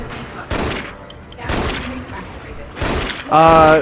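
Pistol fire in the shooter video game Dead Effect: three loud, close bursts of gunshots about a second apart, with a louder ringing effect at the end.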